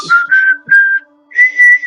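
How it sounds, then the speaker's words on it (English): Sharp, high whistling during a tabletop role-playing game session: a few loud, close whistled bursts, the first ones short and quick, then a pause before a longer two-part whistle, with no talking over it. "It's like really sharp when you whistle."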